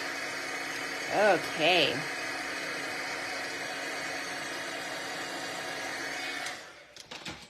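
A heat embossing tool runs as a steady, loud whirring blast for about six seconds, melting embossing powder into shiny polka dots on vellum paper. A brief spoken word comes early, and the blower cuts off near the end.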